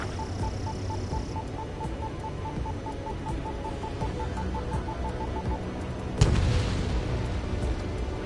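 A single deep bomb explosion from an Ace Combat 7 air strike lands sharply after a steady hum of aircraft and a faint repeating tone, followed by a lingering low rumble.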